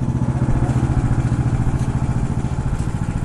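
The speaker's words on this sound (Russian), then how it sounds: "Смотри, сам газует." An engine revving and idling unattended on a February winter forest trip, a loud, steady, rapidly pulsing rumble close by, with no speech over it.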